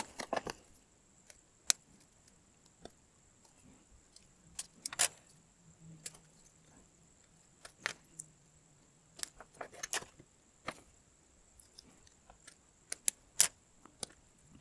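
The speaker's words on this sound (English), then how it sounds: "So let's do a little bit more cutting." Plastic model kit parts for a vintage Star Fleet X-Bomber Gelma fighter being cut from the sprue: sparse, sharp snips and clicks at irregular intervals, close and crisp, against a quiet background.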